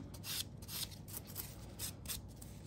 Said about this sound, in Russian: Шлифовщиком подхожу, опиливаю э, в зоне кутикулы